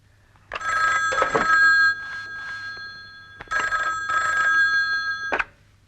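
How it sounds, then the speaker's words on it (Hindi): A telephone rings in a film scene after a call is placed to a studio, two long trilling bursts with a short pause between them, loud and close, with no talking. "अजय जी जरा फोन लगा स्टूडियो में, पूछ क्या हुआ"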